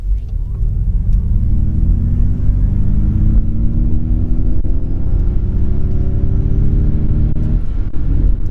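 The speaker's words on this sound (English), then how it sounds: "It's like the same kind of rumbly sound, but more of it. It's definitely more pronounced." In Unbridled mode, a 2021 Ford Mustang Mach-E First Edition gives a steady, loud, rumbling drive sound heard from inside the car, with a low hum whose pitch slowly climbs as it accelerates.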